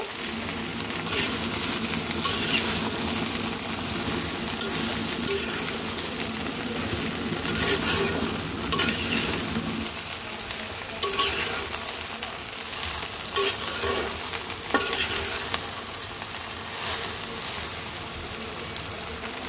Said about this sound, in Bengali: এই দিয়ে দিলাম কেটে রাখা কাঁচামরিচ আর মটরশুঁটি। সব কিছু সুন্দর করে মিক্স করে দেব।